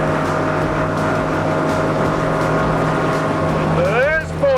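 A fast project boat, converted from stern drive to podded outboard and powered by a 350 V8, runs at speed: a loud, steady engine drone with water rush, close and continuous, ending with a rising whine.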